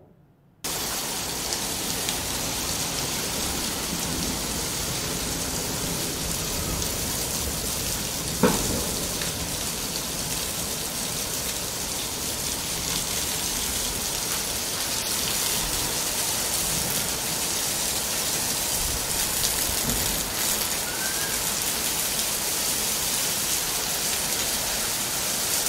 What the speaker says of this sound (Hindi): आज हैदराबाद में तेज बारिश, तेज हवा के साथ तूफानी बारिश हुई है।